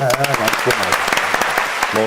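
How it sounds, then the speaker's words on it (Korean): A small group claps briefly after a local ordinance passage is announced on a Korean village news talk show, quick light applause mixed with overlapping voices and laughter. "박수 한번 칠까요?"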